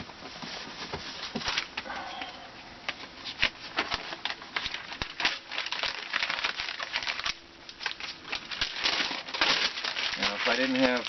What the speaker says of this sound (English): crumple them up,